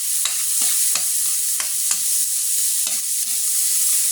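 Onions and alamang shrimp paste sauté in a hot pan, a loud continuous sizzle broken by repeated scraping strokes of a spatula stirring at a steady rhythm, with no talking.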